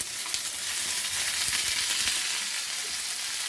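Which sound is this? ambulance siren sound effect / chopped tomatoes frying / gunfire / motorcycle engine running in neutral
chopped tomatoes frying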